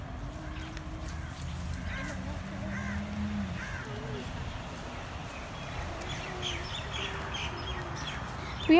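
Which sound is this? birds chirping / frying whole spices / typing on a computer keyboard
birds chirping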